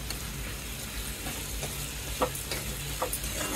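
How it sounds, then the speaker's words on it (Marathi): Soaked jackfruit pieces sizzling in oil in a pan over a gas flame, a steady close crackling fry with a few sharper pops and stirring clicks, no talking. "आपण आता हे भिजवलेले गरे घालूयात। आणि गॅस परत चालू केलाय।"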